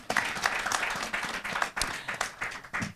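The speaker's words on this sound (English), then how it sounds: "Big clap for Sadya today, please." A studio audience at a Malian television programme breaks into steady applause, dense overlapping claps that swell and dip for a few seconds with no talking.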